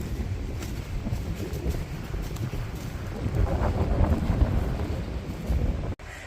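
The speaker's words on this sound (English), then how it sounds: "Yep, it's definitely windy." Steady gusty wind buffets and rumbles across the microphone outdoors on the Namparang Trail in South Korea, swelling slightly midway before briefly cutting out near the end.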